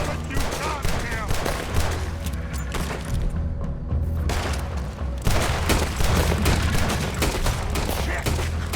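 Dense, loud gunfire in Red Dead Redemption 2, a sustained barrage of overlapping shots with a brief lull midway before the volley resumes, heavy booming reports close by.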